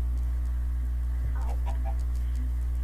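Soft clucking from game chickens in Huevalandia's farm, a short cluster of bird calls in the middle over a constant low electronic hum, with no voices.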